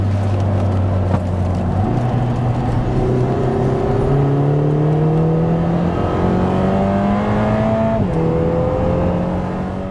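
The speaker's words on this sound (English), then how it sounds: "As you can hear from the tires squealing, you can really drive this car, really push it" A Lotus Emira sports car driven hard on the Hethel test track, its engine note climbing steadily through several gear shifts, loud and close throughout with no talking.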